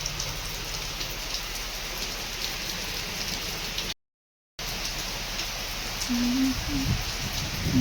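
Steady rain pours down in a constant hiss, briefly cut off, then continues with a few faint low sounds near the end.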